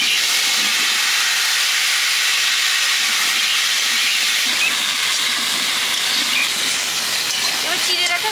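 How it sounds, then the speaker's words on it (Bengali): Potatoes and plantain slices dropped into hot oil alongside fried fish in a village kitchen, giving a loud, steady hiss of sizzling that runs unbroken throughout. "মাছগুলো তেলের মধ্যে আমি কেটে রাখা আলু আর কলা দিয়ে দিচ্ছি।"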